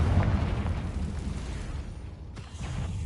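A Confringo fire spell blasting in Hogwarts Legacy, a loud rumbling explosion that roars at the start and decays into a long crackling tail, with a second softer burst near the end.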